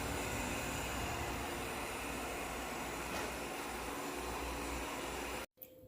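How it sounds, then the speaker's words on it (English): A Shark IQ robot vacuum runs on high power, a steady loud whooshing fan-and-motor drone that holds for about five seconds before cutting out abruptly, followed by a quieter hum. "I'll show you how loud the robot is on high power."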